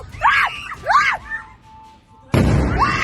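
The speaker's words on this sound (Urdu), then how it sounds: "صرف دھماکے کی آواز سنائی نہیں تھی، بلکہ اس کے ساتھ ساتھ ادھر بڑی دردناک چیخیں بھی سنائی تھی" Anguished screams rise and fall in two or three loud wails after an Iranian missile strike in Israel, followed by a brief lull with a thin steady tone, then a sudden loud burst of broadband noise.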